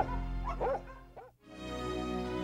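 A Karelian bear dog from a bear dog team gives a couple of quick yelping barks over a steady outdoor background, ending in a brief dip before the background hum resumes.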